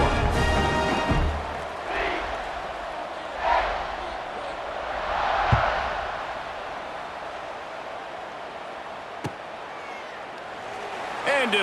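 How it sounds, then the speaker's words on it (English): A stadium crowd in the EA Sports College Football 26 video game roars as a steady background wash, swelling in a few surges, with a commentator-style voice faintly present. "this crowd is buzzing after that last score"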